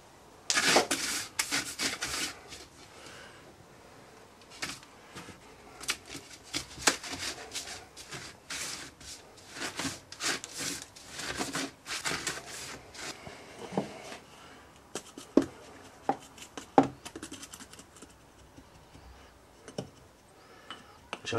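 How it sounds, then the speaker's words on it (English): Fine foundry sand is riddled through a sieve over a casting pattern, making irregular bursts of gritty rustling and scraping that rise and fall close by. "we're about to riddle them with some fine sand, cover the pattern"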